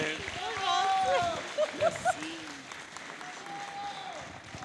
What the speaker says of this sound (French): On applaudit chaudement Madame Joëlle Boutin.